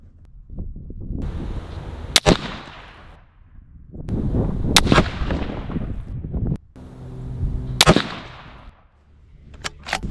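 Ruger American Generation II rifle firing on a range: four sharp, loud gunshots spaced a few seconds apart, each with a rumbling echo, over steady outdoor wind noise.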